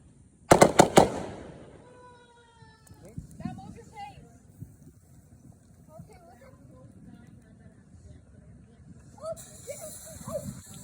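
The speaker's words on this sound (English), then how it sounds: "And now let's get inside of the fireworks show." A Fourth of July fireworks show opens with a loud rapid cluster of bangs, then scattered pops and crackles echo further off while people talk nearby.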